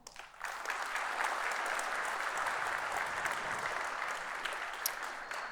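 A conference audience at a talk on condition monitoring breaks into dense, sustained applause that swells quickly and holds steady throughout, with a few sharper claps near the end.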